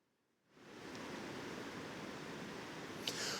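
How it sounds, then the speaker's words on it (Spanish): A river in flood rushes past, a dense, steady roar of turbulent water that swells in after a brief quiet start and continues unbroken and fairly faint. "Es impresionante de verlo bajar así con este agua"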